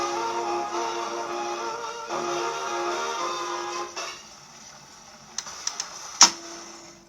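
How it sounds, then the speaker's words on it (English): An HMV 109 gramophone plays a record faintly before stopping, followed by a few sharp isolated clicks from the tone arm ratchet and automatic brake, the last one loud and close. "you can hear the click click click of a ratchet which controls the automatic brake"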